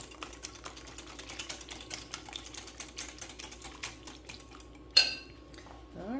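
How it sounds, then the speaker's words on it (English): A spoon clicks and scrapes against a bowl while cinnamon is stirred into a rice pudding mixture, a quick irregular run of light taps, fairly faint, with one sharper clink near the end. "get that stirred in a little bit"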